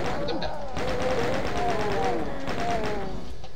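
Rapid chaingun fire rips through a fight with monsters in Doom (Base Ganymede, E3M2), a dense, continuous rattle of shots with game music and effects mixed underneath, loud and steady throughout.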